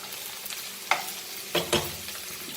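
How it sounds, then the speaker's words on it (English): Okra (bhindi) frying in a pan for Goan pork sausages, a close, steady sizzle broken by a few sharp scrapes and clacks from stirring, with no speech. "now as our bhindi is getting fried"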